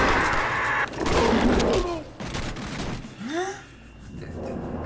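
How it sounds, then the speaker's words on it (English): Shotgun blasts and gunfire fired at an enemy in the Halo 2 video game, a dense, loud barrage with booming shots, swooping game effects and rolling noise. "I shoot him in the face with a shotgun"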